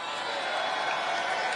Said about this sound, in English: So the crowd really excited about that.